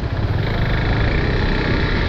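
A motorcycle fitted with new tyres is ridden along steadily, its continuous engine drone and road rumble loud and close throughout, with no voices.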